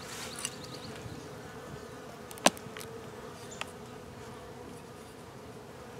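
Honey bees hum in a faint, steady buzz around an open hive, with a few soft clicks of handling equipment nearby and no voices.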